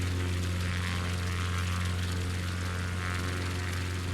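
Propeller airplane droning in Microsoft Flight Simulator 2020, a steady loud engine hum with a strong low tone and broad rushing noise, unbroken throughout.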